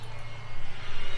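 Tiny Xicoy X45 turbine jet engine at full throttle on a MIBO Swift glider in flight, a steady, pulsing whine and roar heard from a distance, with no voices.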